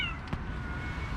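A mother cat guarding her kittens gives one brief, fairly close meow at the start, followed by soft indoor background.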